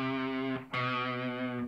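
Short distorted electric guitar phrase from the Seven Nation Army riff, two sustained overdriven notes with a quick slide between them, thick and buzzy, no talking.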